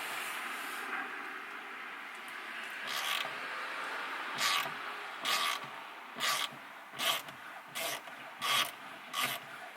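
A bolt worked out with a screwdriver bit on a car mirror mount: steady rasping creaks, then a regular series of short loud squeaking turns, close up with no talk.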